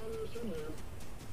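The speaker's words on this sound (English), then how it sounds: "Got a bird." A bird cooing in a video game, a soft dove-like coo of a few short tones heard faintly under steady background noise.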